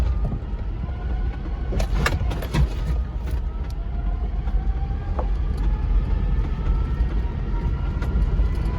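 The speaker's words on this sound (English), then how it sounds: "You can probably hear the whine of the 4 low on the transfer case." A vehicle in four-low drives steadily along a Forest Service road with rumbling road noise and a thin, rising transfer case whine running underneath; a few brief clunks and rattles break through.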